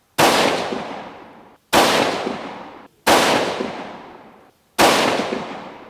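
Four loud, sharp rifle shots from a 6mm Creedmoor Howa 1500 firing hand-loaded rounds, evenly spaced about a second and a half apart, each with a long echoing decay across an open range.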